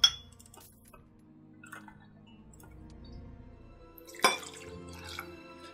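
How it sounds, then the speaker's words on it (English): Liquid poured into a measuring container, a quiet trickle with faint drips and soft clinks, a sharper clink of the container near the end. "pour the rest of that in there"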